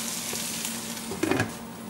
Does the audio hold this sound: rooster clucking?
no